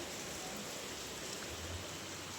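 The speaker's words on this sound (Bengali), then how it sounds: "বৃষ্টি হচ্ছে তো খুব।" Heavy rain pours as a steady, even wash of noise, faint and distant, with no voices over it.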